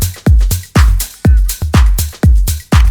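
A deep house drum loop punches along with steady heavy kicks and sidechain-pumping swells, while layered hi-hats and shaker patterns tick on top, loud and up front with no voices.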